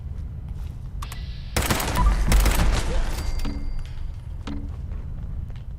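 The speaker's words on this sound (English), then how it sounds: "burst mode seems to work the best. When I mean burst mode, I'm literally just double tapping the trigger" An explosive pipe rifle in Fallout 76 fired in quick bursts, a dense rattle of shots and blasts over about two seconds, with a few scattered single shots and clicks before and after.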